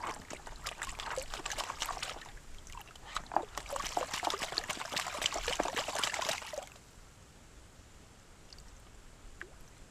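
Water sloshes and pours as sand is washed out of a gold pan outdoors in the evening, a busy splashing trickle for about six and a half seconds before it drops to quiet.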